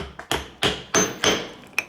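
A hammer strikes a homemade silver coin held on a reinforced wooden stump near a wood stove. Five or six loud, sharp metallic blows ring out at a regular pace, each with a bright ringing tail, and nobody speaks.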